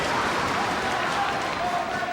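Wrestling arena crowd roaring steadily for Kenny Omega after a double hurricanrana, a dense, continuous wash of cheering and applause with no clear gaps.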